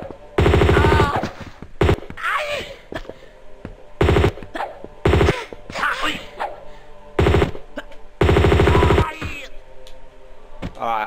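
Grenade launcher and gunfire bursts in Tomb Raider II at Barkhang Monastery, loud broadband blasts repeating every second or two with short crackling echoes and noise between them, no talking.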